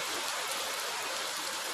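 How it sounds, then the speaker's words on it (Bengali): Heavy rain pours down in a dense, continuous hiss with no other sounds standing out. "প্রচুর বৃষ্টি হচ্ছে"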